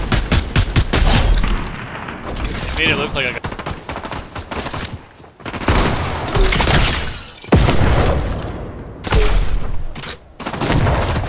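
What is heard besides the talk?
explosions and gunfire in the video game Fortnite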